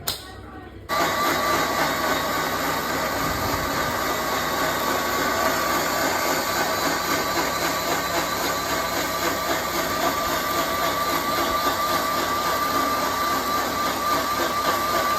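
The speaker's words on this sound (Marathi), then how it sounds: "यात येते थोडं दही टाकले त्यातच एक ग्लास भरून पाणी घालायचं आणि आता फिरवायचं मिक्सर" Loud, steady whirring of a kitchen mixer grinder churning curd with a glass of water into buttermilk, starting abruptly after a moment and running on without pause.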